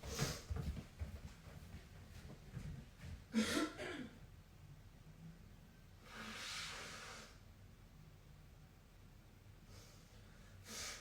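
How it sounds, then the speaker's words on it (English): A couple of short, breathy nasal blasts with some sniffing and throat noises, close by in a quiet room. "I've got to blow my nose."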